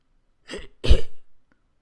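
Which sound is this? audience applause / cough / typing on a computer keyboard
cough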